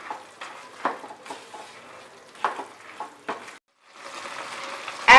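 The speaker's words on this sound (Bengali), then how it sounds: "নাড়তে নাড়তে মিশিয়ে দিতে হবে, আর হাই ফ্লেমে আমি 1 মিনিট রান্না করছি।" Boondi being stirred into sugar syrup over a high flame, with a spoon scraping and clinking against the pan in irregular strokes, a soft bubbling sizzle underneath, and a sharp metallic knock at the end.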